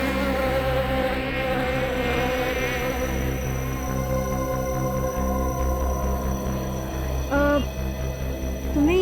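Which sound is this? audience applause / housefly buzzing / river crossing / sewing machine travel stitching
housefly buzzing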